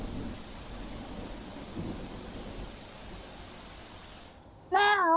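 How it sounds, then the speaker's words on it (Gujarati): Heavy overnight rain in Navsari, a dense steady hiss of rainfall with low rumbles, ending abruptly as a different sound with a voice-like tone cuts in. "બંને તાલુકામાં રાત્રે 10 વાગ્યા બાદથી સતત વરસાદ."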